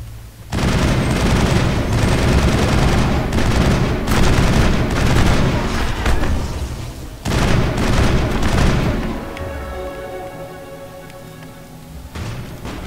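Rifle fire in the Mass Effect video game, loud, dense bursts of rapid shots and booming impacts that run in long stretches with short pauses, then die away to quieter ringing tones.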